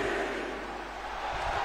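A wrestling arena crowd roars in a dense, sustained wash of cheering and shouting that swells slightly near the end, with no distinct single voice standing out.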